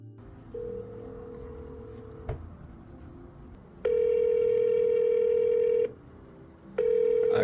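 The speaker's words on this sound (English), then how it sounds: "Okay, so I'm calling the phone number." A telephone call is placed: a short tone, a click, then long steady ringback tones separated by pauses. The sound is clean and moderately loud, with no talking.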